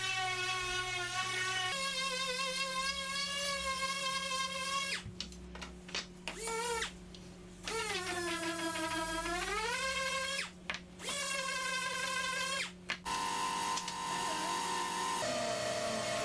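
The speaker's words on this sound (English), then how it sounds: "And I'm sanding the face of the piece because it's also easier to do it without the molding on there." A power sander works across the face of a wooden barn door built from scratch, giving a steady, close motor whine whose pitch dips and rises as pressure changes, with several brief breaks in the sound.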